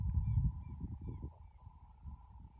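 Outdoors in rural Mexico, a bird gives several short, thin, evenly spaced calls at moderate distance over a steady tone and low rumbling background noise.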